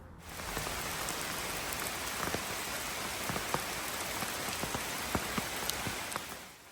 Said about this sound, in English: a massive hailstorm came through